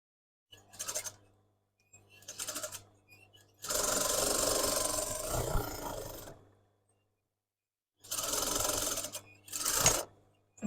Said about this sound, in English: I'm going to do a good back tack just on that seam.